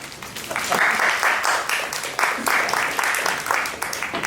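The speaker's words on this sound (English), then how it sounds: "you are allowed to clap" An audience at a book launch at the Singapore Writers Festival claps in a steady, moderate round of applause. A few people murmur underneath it, and it runs about four seconds.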